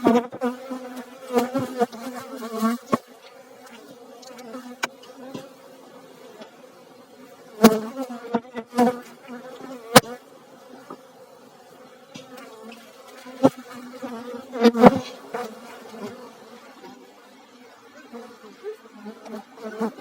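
A honeybee colony buzzes at an open hive during feeding and inspection, a close, steady droning hum with scattered sharp knocks and clicks from handling the frames.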